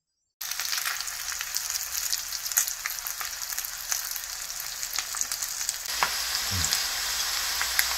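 Dumplings deep-frying in plenty of oil at an old dumpling shop in Daegu: a steady, close, crackling sizzle that keeps going, with a few louder pops and stirring near the end.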